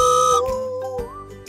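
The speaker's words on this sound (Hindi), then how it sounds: "एक जोर की सीटी इंजन से निकली।" A shrill, sustained whistle rings out from a train engine, loud and close, its tone bending slightly, with faint jingly touches in the background of a children's cartoon story.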